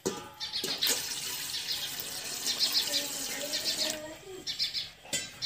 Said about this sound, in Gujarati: તપેલું મૂક્યામાં થોડુંક પાણી નાખી દઈ પેલા